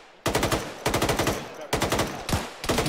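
Machine gun fire in the military simulation game Arma, four loud, close bursts of rapid evenly spaced rounds separated by short pauses.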